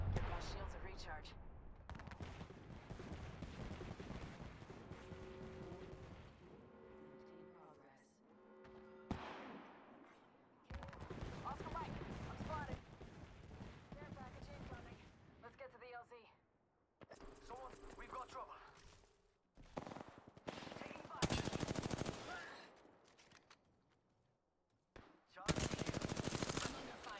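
Automatic gunfire in Apex Legends comes in repeated bursts of close, loud rattling shots, with explosive bangs and mechanical clatter mixed in and a player's voice talking over parts of the fight.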